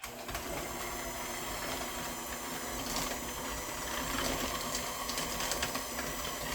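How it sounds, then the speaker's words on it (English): An electric kitchen mixer whirs continuously through banana nut bread batter with chopped ripe bananas, a steady, moderately quiet motor drone that holds without a break. "We're going to go mix it up. Just use your mixer."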